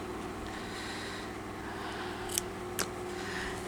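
Two crisp snips of scissors trimming cotton thread during crazy patchwork hand sewing, close and distinct over a quiet room hum, with no talking.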